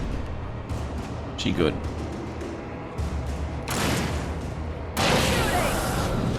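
Gunfire in the Alan Wake video game, a few heavy booming shots and noisy bursts spread through the stretch, under and between people talking.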